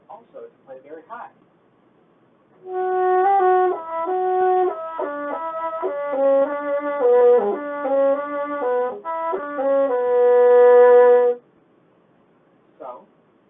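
A bassoon plays a sustained melodic passage, moving between loud and soft notes with clear swells and dips in volume, heard alone and up close, framed by a few brief sounds before and after.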